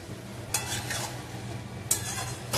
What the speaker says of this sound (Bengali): এইবার যে পেস্টটা করা ছিল, পোস্তর পেস্ট, কাজু দিয়ে আর কাঁচা লঙ্কা দিয়ে, সেই পেস্টটা ঢেলে দেবো।